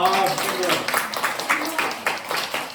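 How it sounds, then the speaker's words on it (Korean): A children's worship service congregation claps in scattered, uneven bursts after a voice, the claps moderately loud and mixed with young voices chattering throughout. "박수 해주세요."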